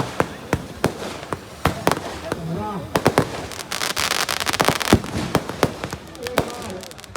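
Fireworks at the Dewa fair, with performers carrying handheld pyrotechnics across the ground: a rapid series of sharp cracks and bangs over a crowd roar, with a voice briefly exclaiming.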